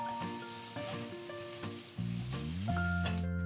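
Spice mixture of black pepper and MSG stirred in a pan while making chilli gobhi, a steady sizzle under repeated scraping strokes and clinks, fairly close, with a tonal hum rising toward the end.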